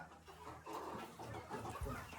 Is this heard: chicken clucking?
yes